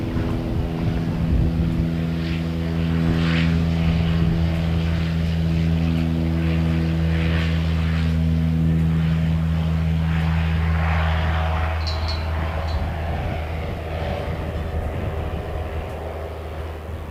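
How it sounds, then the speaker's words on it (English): An ATR 72-600 turboprop airliner arriving from Wellington makes a loud, close propeller drone with strong steady low tones, holding for about seventeen seconds before easing slightly toward the end. "ATR 72-600 coming from Wellington."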